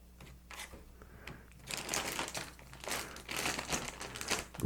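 Plastic freezer bag crinkling and rustling as chopped strawberries and rhubarb are dropped in for strawberry rhubarb wine, a steady close crackle that grows louder in the second half, with no talk.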